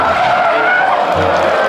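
A toy race car makes a loud, steady skidding screech, like tires sliding on a hard surface, held without a break for under two seconds.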